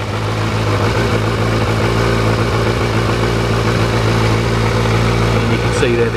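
A motorcycle engine idles just after starting, a loud, close, steady low rumble that holds an even note for several seconds.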